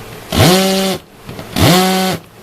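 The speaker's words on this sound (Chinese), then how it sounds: "这个是锤钻，这一台有锤钻的功能。" A Bosch GSB 120 LI 12V cordless impact drill, fitted with a replacement motor and set to hammer-drill mode, whirs up in two short, loud bursts, each climbing quickly in pitch and then holding steady before cutting off.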